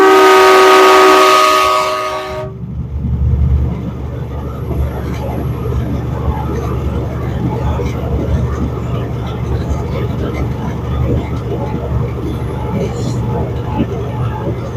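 A loud, blaring train horn fitted to a van sounds for about two seconds, then cuts off, leaving steady road and engine rumble from the moving van.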